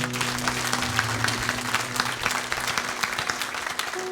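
A church congregation applauding during a Sunday service, steady dense clapping from many hands continuing throughout, fairly close and even in volume.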